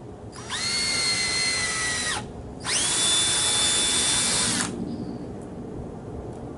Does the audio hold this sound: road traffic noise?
no